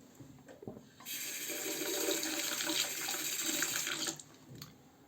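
Water runs from a sink tap for about three seconds while a Merkur Progress safety razor is rinsed, a fairly quiet, steady splashing rush that starts and stops abruptly between soft handling sounds.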